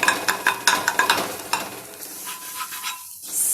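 Vegetable kothu being chopped and fried on a dosa tawa: rapid metallic scraping and tapping strokes over a steady sizzle, easing off into quieter frying near the end.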